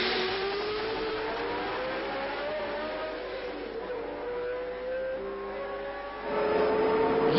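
A pack of racing cars at the 1963 Monaco Grand Prix, heard as a continuous blend of engine whine whose pitch slides up and down as they pass, fairly distant, with a louder surge near the end.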